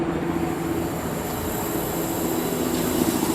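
Compressed air forcing water out of an inground sprinkler system zone during a winterizing blowout: a steady, broadband rushing hiss with a low rumble, continuous and fairly loud throughout, with no voices.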